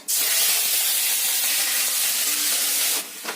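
Onion paste hits hot oil with dried chillies in a pan, erupting into a loud, steady hissing sizzle that holds for about three seconds before easing down, while a pointed gourd dish is being cooked.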